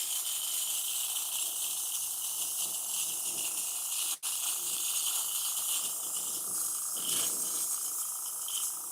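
An airbrush sprays paint onto a shoe with a steady, close, hissing rush of air that runs almost unbroken, dropping out only for a split second midway.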